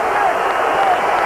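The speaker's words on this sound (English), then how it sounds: "but the crowd into it big time now." A basketball arena crowd roars and cheers during a Tennessee–Vanderbilt college game, a broad, loud wash of noise with a commentator talking over it.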